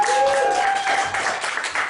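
Audience applause at a live comedy mind reading show, a dense steady wash of clapping through the whole moment, with a faint tonal hum running underneath.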